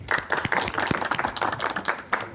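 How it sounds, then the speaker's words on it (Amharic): An audience at a Meskel (Demera) celebration held by a diaspora community in Uganda claps, a dense burst of hand clapping that continues steadily throughout at close range. "አጨብጭቡ"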